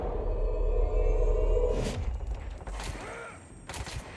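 Gunfire in the video game Control, loud bursts over a constant low rumble, with a couple of sharp shots standing out near the end.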